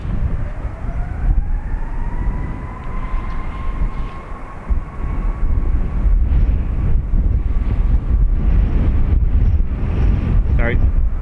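Airbus A321neo climbing out on departure for Washington at an airport, a steady roaring engine drone with rising whine tones, loud and continuous throughout with wind buffeting the microphone.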